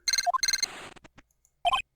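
Electronic transceiver ringing in the Ace Attorney: Justice For All video game: two bursts of a bright chirping ring tone, then a spoken-sounding blip passage, and another ring burst near the end, close and clear.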